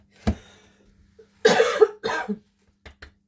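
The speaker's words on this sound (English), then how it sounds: "I'm going to cough, excuse me." A single sharp cough near the start, then a short pause before a cluster of harsher coughs and throat sounds, with a couple of faint ones at the end.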